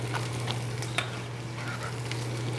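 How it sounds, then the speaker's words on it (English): Vegetables sizzling in hot sesame oil in a pan, a steady even frying hiss throughout with faint crackles and a low hum beneath, no voices. "Nice sizzle into this pan."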